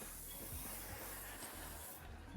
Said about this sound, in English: get that spray, sneak up in the hair before it falls down